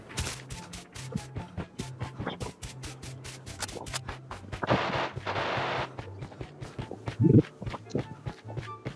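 Footsteps pad quickly in a mobile shooter game, an even rapid patter of steps with a brief rustling burst midway and a short louder thump near the end.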